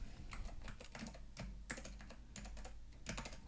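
Code being typed on a computer keyboard, a steady run of light, close key clicks in irregular bursts with no voice.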